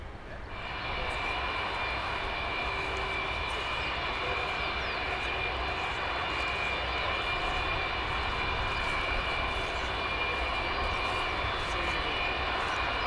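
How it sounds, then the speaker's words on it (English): A big passenger airplane flies overhead, its engines producing a steady, distant roar that holds evenly for the whole stretch with no talking over it. "That was like the big boy plane."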